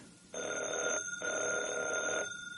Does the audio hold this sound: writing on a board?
no